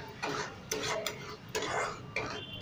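Masala frying in oil in a covered pan over medium heat for a fish roe dish, with a steady crackling hiss punctuated by a few stirring scrapes and clicks, close and moderate in loudness.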